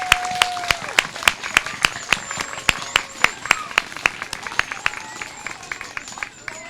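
Adults in the audience at a fourth grade graduation ceremony give a class a round of applause, with sharp, fairly sparse claps standing out close to the microphone over a softer crowd bed.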